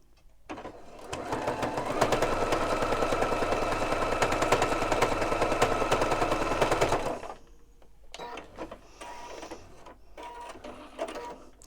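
A sewing machine fitted with twin needles stitches a straight line through a quilt sandwich of fabric and wadding, a loud, even, rapid whirring clatter lasting about six seconds, then quieter handling sounds.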